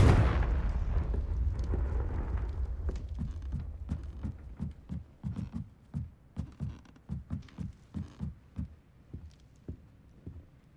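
In the video game Hogwarts Legacy, the Confringo fire spell bursts with a loud, booming explosion up front, then a string of rhythmic thuds that pulse steadily and gradually fade away.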